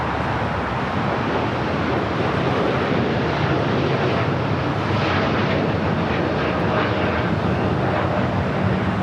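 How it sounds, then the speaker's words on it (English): Boeing 787 Dreamliner jet rolling down the runway at LAX: a loud, steady broadband engine roar that holds for the whole stretch, with wind-like hiss and no talk. "Dreamliner now rolling down at 25 right"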